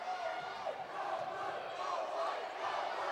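A volleyball crowd in a gym cheers for the Vikings during a regional match, a broad steady roar of many voices with yells, distant and unbroken.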